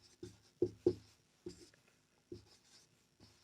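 Chalk or marker strokes on a classroom board during a chemistry lesson: a handful of short, fairly close scratchy taps in an uneven rhythm, separated by quiet gaps.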